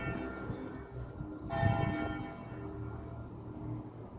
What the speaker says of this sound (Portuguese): Olha o sino batendo.